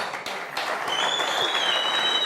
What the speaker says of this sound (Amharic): አብሮ አደጉን አጨብጭቡለት እባካችሁ።